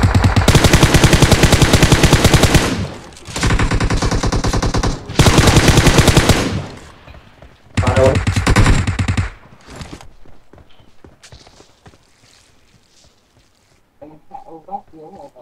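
Gunfire in a shooting video game comes as loud sustained machine-gun bursts, several long volleys separated by short pauses, then scattered single shots, with voices talking faintly near the end.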